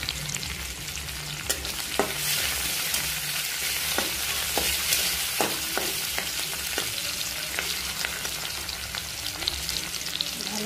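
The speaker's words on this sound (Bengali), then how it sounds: "পেঁয়াজটাকে লাল হওয়ার পরে জিরা দিয়ে দিলাম। জিরাটা দিয়ে ভালো করে নাড়াচাড়া করলাম।" Onion and cumin frying in mustard oil for a fish, potato and eggplant curry, stirred with a spatula: a steady loud sizzle with scraping stir strokes throughout, no voices.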